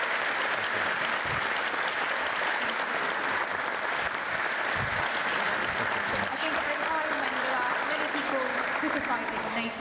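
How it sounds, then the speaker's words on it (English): A large conference audience applauds steadily after an on-stage conversation with the prime ministers of the Netherlands and Canada at a NATO event, dense even clapping filling the whole stretch without pause. "Applause to that."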